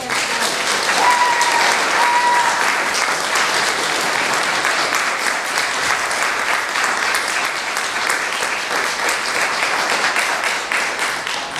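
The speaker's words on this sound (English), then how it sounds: "let's have another round of applause for these fantastic." Sustained, dense applause from a festival audience at a music festival fills the space, a steady roar of many hands clapping that stays loud throughout.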